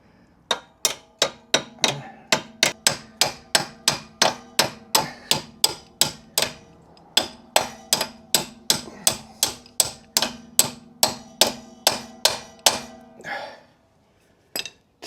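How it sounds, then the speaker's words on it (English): End of a spanner walloping a rear damper bush on a Jaguar XK8, a rapid series of sharp metallic clinks, about thirty strikes in an even rhythm with one short pause, close and loud. "Just give that a little wallop with the end of a spanner."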